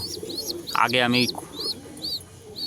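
Paired pigeons cooing in a home loft, repeated soft throaty coos with a brief nearby voice in the middle, birds close and fairly loud.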